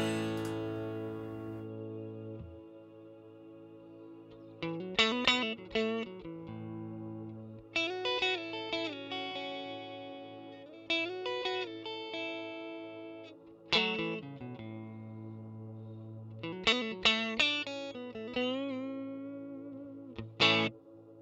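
An electric guitar played through a Fractal FM3 processor with band backing, notes and chords ringing out with heavy effects and long sustained reverb tails between phrases, no talking.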